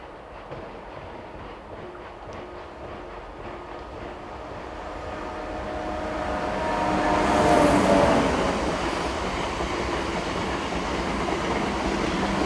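A Class 130 Intercity Talgo passenger train arrives in Spain, its rumble swelling steadily to a loud, close peak with a high metallic squeal before easing into a steady roar.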